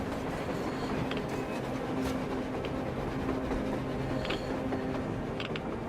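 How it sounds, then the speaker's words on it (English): A train travels on the surface in the video game Metro Exodus, producing a continuous, moderately loud rolling rumble with faint metallic creaks and rattles. "A train! A damn train on the surface!"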